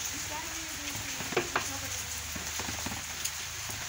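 Rain falls steadily outdoors during a cobra rescue in Talaja, a soft continuous patter with scattered louder drops and faint background noise throughout.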